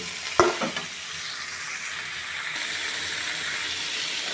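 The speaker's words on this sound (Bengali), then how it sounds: "ফুলকপি আলু এগুলো একসাথে সুন্দর করে একটু ভেজে নেব।" Cauliflower and potatoes fry in hot oil with salt and turmeric, giving a steady close sizzle and hiss, opened by a sharp clatter of stirring near the start.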